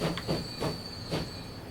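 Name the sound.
train pulling out in video game Transport Fever 2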